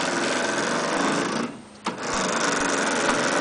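An electric motor turning a threaded rod on a bucket fork grapple's lever arm gives a continuous buzzing whir, close and steady, that briefly drops away before resuming.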